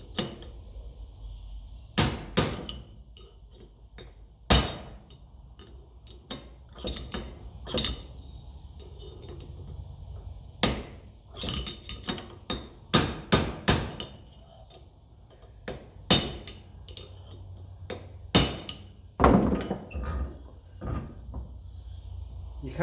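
A hammer taps on parts of a Massey Ferguson 35 tractor, sharp metallic knocks in irregular bursts and clusters with quiet gaps between, close up in a workshop, with some speech.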